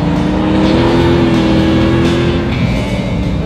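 A Mazda MX-5 ND fitted with a 525 hp V8 drones loudly and steadily under load on a race track, its engine note holding near and continuous with a slight pitch rise, running on grippy Bridgestone track tyres.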